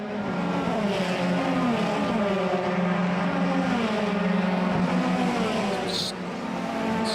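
Euroformula Open single-seater race cars scream past at Monza during qualifying, a continuous loud engine roar with rising and falling pitch as cars pass and shift, steady throughout.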